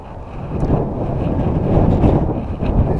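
Gusty wind buffets the microphone on an outdoor walk around a dyke, a loud rushing roar that swells and eases.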